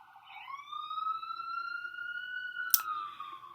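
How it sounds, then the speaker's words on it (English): Emergency vehicle siren outside, a steady rising wail with harmonics heard from a distance, with a sharp bang or click near the end and no talk. "but we still got sirens"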